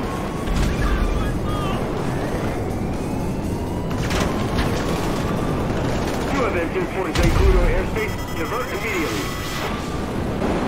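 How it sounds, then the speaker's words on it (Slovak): Gunfire and explosions in GTA 5 during a fighter jet and tank chase, scattered bangs and crashes set in a dense, continuous wash of game noise. "Čo tu po mne strieľajú?"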